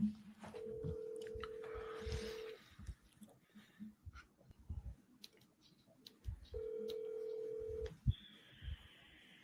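A phone dials out for a call: faint steady tones held for a couple of seconds, a pause with quiet background noise, another held tone, then a higher-pitched tone at the end.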